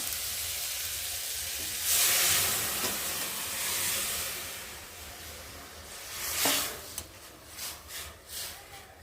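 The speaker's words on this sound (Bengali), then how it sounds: "আর এখন আমি এই ডালটাকে ঢেলে দেবো" Lentils are poured into a pan of fried tomatoes, and a steady hiss of frying rises into louder sizzling bursts that then ease off.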